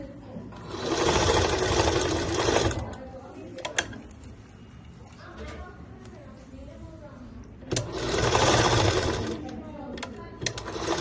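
A sewing machine double-stitches the folded hem of a school skirt, running hard in two loud, close bursts of rapid whirring, with quieter mechanical ticks and handling noise between them.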